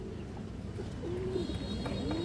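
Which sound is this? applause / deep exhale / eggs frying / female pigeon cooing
female pigeon cooing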